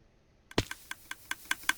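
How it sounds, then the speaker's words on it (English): Loud clicking of a computer keyboard, one sharp key strike followed by a steady run of about six evenly spaced clicks, close and alone. "Yeah, that loud clicking"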